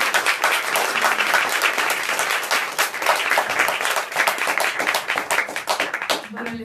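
Sustained audience applause fills the room at a talk about Julieta Kirkwood, dense and steady clapping from many hands throughout, with a few voices audible beneath it near the end.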